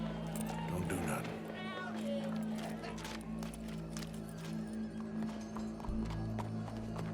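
Horse hooves clip-clopping in Red Dead Redemption 2, a steady rhythmic clatter beneath a continuous bed of game music and ambience, with voices speaking throughout.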